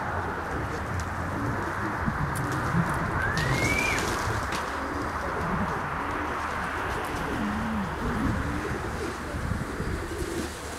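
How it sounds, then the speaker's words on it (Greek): Pigeons coo softly in low, repeated throaty calls over steady outdoor rumble in Volos, Greece, with a brief higher bird call rising once. "Μην μιλάτε για να ακούγεται τη βαζούρα."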